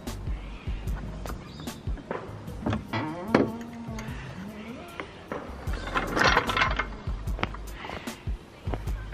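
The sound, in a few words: tightening Honda Accord coilover top nut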